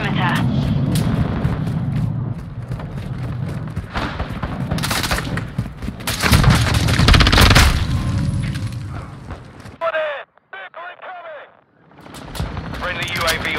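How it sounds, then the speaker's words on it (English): Heavy booming airstrike explosions and gunfire in Call of Duty Modern Warfare rumble loud and continuous, with radio-style voice callouts over the battle and a brief lull near the end. "Friendly airstrike in the AO"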